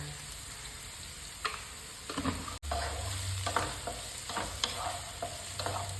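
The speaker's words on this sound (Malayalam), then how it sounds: "നന്നായിട്ട് നമുക്ക് ഉപ്പിട്ടിട്ട് ഒന്ന് വഴറ്റി കൊടുക്കാം കേട്ടോ" Carrots, beans and onion sautéed with salt in a hot pan, a steady sizzle broken by scraping stirs and clicks of a spatula against the pan, close and alone.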